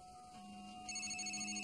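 A telephone rings indoors with a steady electronic ring tone that grows louder partway through, repeating in a fast pulsing pattern over quiet room tone.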